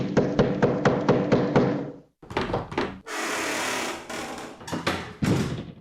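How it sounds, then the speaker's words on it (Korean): Someone knocks on a wooden gate late at night: a run of sharp, evenly spaced raps, a pause, then more uneven thuds and taps, close and fairly loud. "늦은 밤에 대문을 두드리는 소리가 들렸다."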